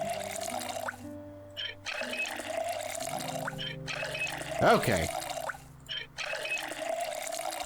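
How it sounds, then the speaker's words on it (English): Water bottles fill from a source in the survival game Project Zomboid, with repeated gurgling pours and drips over quiet background music, while someone speaks briefly. "Let's go ahead and fill the other 2 water bottles"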